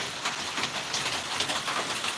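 Steady rain comes down outdoors as a dense, even hiss of drops on surfaces, with no voices over it.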